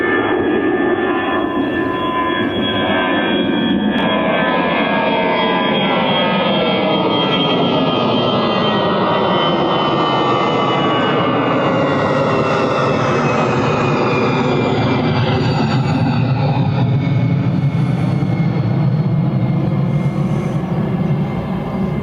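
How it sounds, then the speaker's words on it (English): An EasyJet airliner at an airport roars steadily with a loud, sustained jet engine sound that swells and shifts pitch as it passes, dominating the whole stretch without any talking. "I think that's an EasyJet as well"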